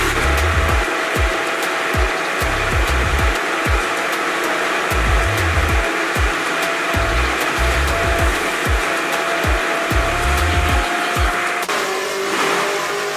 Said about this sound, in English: I know it looks weird and nasty, but let's start blending it